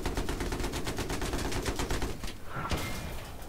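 Rockets fired in Battlefield 3 on the Noshahr Canals map, a rapid rhythmic volley of repeated launches followed by a sharp blast, loud and close.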